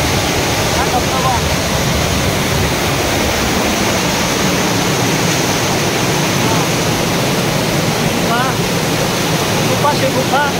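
Chorchavdi waterfall near Dahivad, Deola, a loud, constant rush of falling water filling the whole stretch, with faint bird chirps above it.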